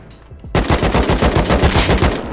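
Automatic gunfire in the video game Rust, a loud, close, rapid burst of shots that starts abruptly after a quiet moment and keeps going steadily to the end.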